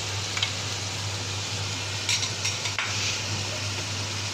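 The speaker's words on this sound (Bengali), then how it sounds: "মশলা কষানো হচ্ছে" Spice paste of chili, garlic and cumin sautéing in a pan, a steady close sizzle with a low hum underneath and a few brief scrapes of stirring.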